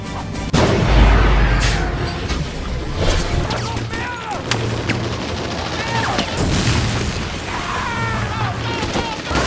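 A heavy bomb explosion booms, opening a chaotic stretch of blasts, crashes and gunfire, with voices shouting amid the loud, dense action.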